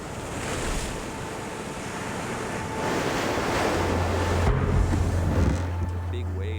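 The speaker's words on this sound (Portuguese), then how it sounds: "Ondas grandes batiam nas laterais do barco." Large ocean waves slap and wash against the hull of a sailboat at night, a continuous rough surge with wind noise, growing heavier midway, plus a low steady hum underneath.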